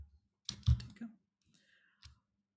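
A computer mouse clicks a few times during AutoCAD drafting work: a quick pair of sharp, close clicks, a pause, then one more click, with quiet gaps in between.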